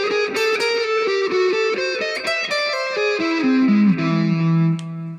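Distorted electric guitar with effects plays a full fast melodic line in a rock instrumental, a busy run of quick picked notes that descends to a held low note at the end, loud and solo with no voice.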